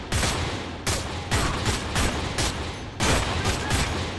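Gunfire rips at an enemy in the PS2 beta of Manhunt 2: about half a dozen loud, harsh bursts of shots in an uneven rhythm, close and dominant with no talking.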